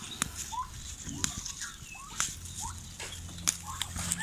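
Turkeys gobble and call in short warbling bursts, repeated irregularly over a faint hiss, with occasional sharp clicks.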